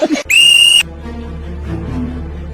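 A whistle is blown once in a short, loud, shrill blast, just after a brief burst of noise, then fades into a low background hum.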